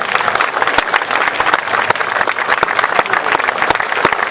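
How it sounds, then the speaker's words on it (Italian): Audience applauds steadily throughout at a literary award ceremony for singer-songwriters, a dense, even wash of clapping close by with no voices over it. "Il vostro applauso va al professor Sergio Talana."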